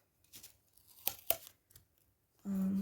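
Masking tape is pulled and torn in a few quick, crinkly rips, then a longer strip is stretched off the roll with a raspy, squeaky drag, close by.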